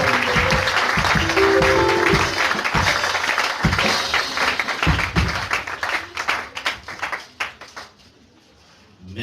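A church congregation cheers and applauds to acclaim the Lord, dense clapping and shouts loud and steady for several seconds before thinning into scattered claps and fading near the end.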